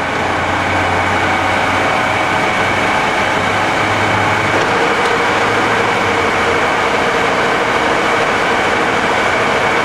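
A 1978 Cincinnati Milacron Model 550-25 VerciPower DH bed-type vertical mill runs its spindle with a steady, loud mechanical drone and low hum throughout, without pause.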